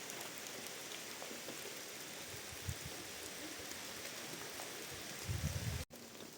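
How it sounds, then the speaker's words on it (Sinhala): Rain falling amid thick mist on Sri Pada (Adam's Peak), a steady faint hiss of drops with a few soft thumps near the end. "මීදුමයි වැස්සයි ඔක්කොම එකට මාර වැඩි වුණ"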